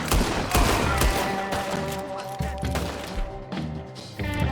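Gunfire in Red Dead Redemption 2 rings out as a rapid fusillade of sharp shots and heavy thuds, fairly loud and close, with game music sustained underneath.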